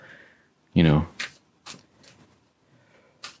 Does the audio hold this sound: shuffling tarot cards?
yes